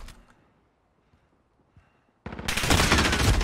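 Call of Duty Modern Warfare gameplay: after near silence, a sudden loud burst of rapid automatic gunfire breaks out and continues as a dense, close volley.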